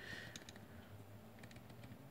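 Micro-switch face buttons on a Machenike game controller are pressed in short bursts, giving crisp, defined clicks in small clusters at close range, with no talking.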